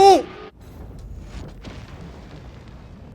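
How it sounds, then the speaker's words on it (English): A ship ramming another ship in the Star Citizen video game, a loud burst at the start followed by a low, rumbling explosion that trails off into a sustained muffled roar. "that's a pretty big explosion"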